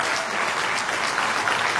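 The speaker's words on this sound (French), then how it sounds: "Applaudissez s'il vous plaît." Applause at a wedding ceremony, a steady dense wash of many hands clapping continuously and fairly close, with no speech over it.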